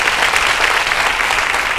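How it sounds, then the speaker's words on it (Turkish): A studio audience at a Turkish game show, Büyük Risk, applauds a contestant with steady, dense clapping that stays loud and even throughout. "Alkışlıyoruz Arzu'yu."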